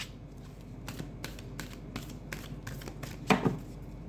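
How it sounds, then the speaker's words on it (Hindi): Tarot cards that have fallen get gathered up and handled, giving soft, close flicks and slides in an irregular rhythm with one louder rustle near the end. "व्यूअर्स कार्ड्स गिर गए"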